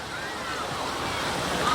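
Ocean surf at Clearwater Beach washes in a steady, broad rushing hiss, heard close with some wind noise over the microphone.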